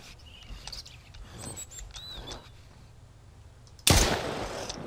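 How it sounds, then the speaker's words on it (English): A single loud gunshot in the Mist Survival game cracks out near the end after quiet ambient rustles and faint chirps, followed by a short decaying tail. "Okay, let's shoot the last guy."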